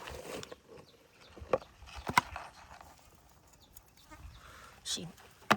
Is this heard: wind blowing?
no